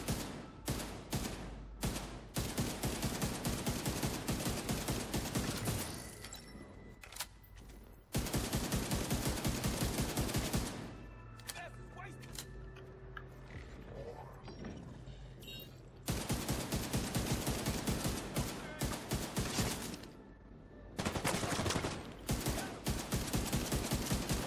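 Vindicator exotic rifle fire in The Division 2, loud rapid bursts of automatic gunfire in long runs broken by short quieter gaps with game ambience, no talking.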